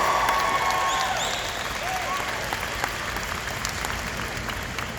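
Steady crowd applause at a graduation ceremony fills the whole stretch, many hands clapping at once with a faint cheer or whistle rising early on.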